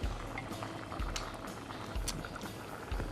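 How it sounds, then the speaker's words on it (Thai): A pot of Thai cauliflower and pork rib curry at a boil, a continuous low bubbling and popping from the simmering liquid, fairly quiet and close, with no talking. "เดือดแล้ว แล้วก็สุกแล้ว"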